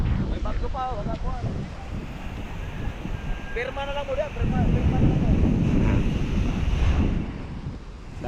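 Strong wind buffets the microphone outdoors with a constant roar that grows louder partway through, while people talk over it.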